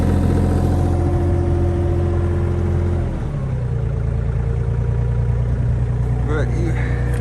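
A Case CX37C mini excavator's engine runs at close range with a steady droning rumble. Its pitch drops and settles about halfway through into a lower, even idle.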